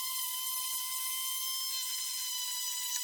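A Dremel rotary tool with a coarse bit carves a wood spirit, giving a continuous high-pitched whine with a steady tone and grinding texture, fairly quiet and alone.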